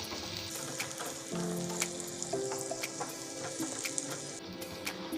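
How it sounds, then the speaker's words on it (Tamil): Chopped onions frying in hot oil for chana masala, a steady close sizzle and crackle throughout with light spatula scrapes and faint clinks, no voices. "வெங்காயத்தை நல்லா ஃப்ரை பண்ணிக்கோங்க"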